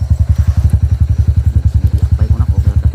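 Close motorcycle engine idling and revving with a steady, rapid thumping pulse throughout, loud and alone with no talk.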